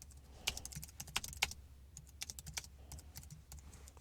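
Close typing on a computer keyboard while writing code, irregular clusters of crisp key clicks with brief pauses, no talk.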